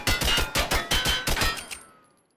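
Desert Eagle pistol in the video game TaCZ emptying its magazine, about eight loud, sharp shots fired in quick succession, then a short fading tail.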